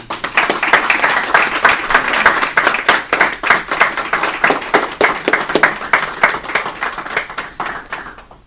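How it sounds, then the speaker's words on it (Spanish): An audience claps steadily for a newly inducted director at a formal honor session of the Inter-American Institute for Democracy. The dense, even applause stays loud and close throughout and fades slightly at the end, with no talk. "Recibámoslo con un merecido aplauso."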